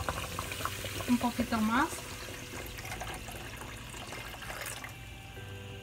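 More water is poured into a pot while a homemade flan cooks, giving a soft, steady watery wash under someone speaking.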